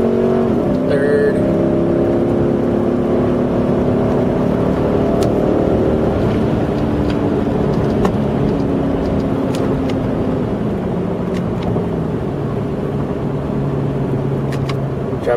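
Glasspack exhaust on a car, heard from inside the cabin during acceleration through the gears onto an interstate, a steady loud droning engine note that climbs and shifts in pitch throughout, with no talking.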